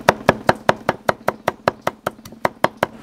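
Knife chopping ginger into fine pieces on a cutting board, a steady run of about fifteen sharp, evenly spaced chops, close and loud, with no talking.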